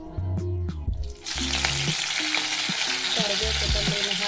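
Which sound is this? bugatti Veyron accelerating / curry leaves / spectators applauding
curry leaves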